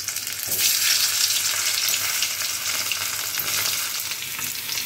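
Potatoes dropped into hot oil with cumin seeds in a wok, giving a loud, bright, continuous sizzle and crackle that starts abruptly and then holds steady.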